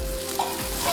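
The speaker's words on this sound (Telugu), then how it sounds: "ఇప్పుడు ఉల్లిపాయలు ఎగినేమో చూద్దామండి." Onions frying in a pan with ginger-garlic paste, a soft continuous sizzle with a faint scrape of stirring, brief and moderately quiet.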